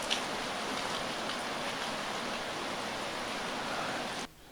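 Heavy, steady rain falls on a highland forest of African pencil cedar in Ethiopia's Bale Mountains, a dense even hiss that holds for about four seconds and then cuts off abruptly.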